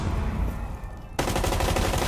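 Gunfire in a competitive ranked shooter game, shots fired through a wall from near a window: a dense run of rapid, loud shots, briefly thinning before a second sharp burst of steady fire, with no talking.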